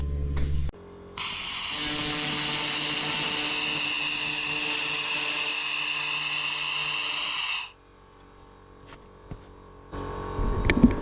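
A laser rust cleaner with a 45mm cleaning width zaps heavy rust off a piece of metal for custom car parts, a loud, steady high-pitched buzzing whine lasting several seconds that then cuts off to quiet handling noises.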